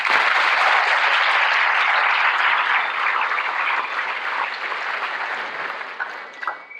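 Audience applause at a graduation ceremony, dense and sustained clapping from a large crowd that tapers slightly toward the end.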